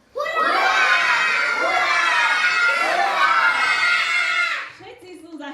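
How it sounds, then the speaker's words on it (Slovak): Children in a puppet-theatre audience shout hurray together loudly, three long massed cheers rising and falling in waves before dying away near the end. "Zachráni sa iba ten, kto 3-krát za sebou zakričí čo najhlasnejšie hurá."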